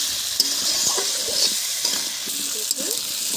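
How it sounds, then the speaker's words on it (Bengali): Onions and potatoes frying in a pan with turmeric and salt, sizzling steadily while a utensil stirs through them with soft scraping clicks, close and continuous without speech. "দেখুন এখানে পেঁয়াজ ভাজা হয়ে গেছে, আলুগুলোও ভাজা হয়ে গেছে"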